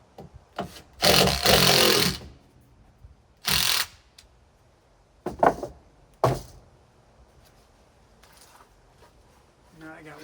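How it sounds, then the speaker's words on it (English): Screws being driven into a wooden roof beam during a roof install, with several separate loud bursts of ratcheting, grinding drive separated by quiet pauses, close by. "Screw it in place. Do my 2 screws."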